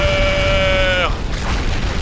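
In the Minecraft Rival Rebels mod, a plasma charge sets off a nuclear explosion: a steady synthetic tone cuts off suddenly and gives way to a loud, dense roaring rumble.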